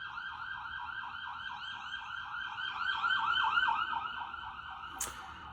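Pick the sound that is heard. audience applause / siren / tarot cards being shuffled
siren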